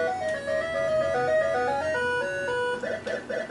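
Chiptune melody from Ms. Pac-Man on an Atari console, a thin beeping tune stepping through bright tones, then a burst of short repeated blips near the end, loud and close with no talk.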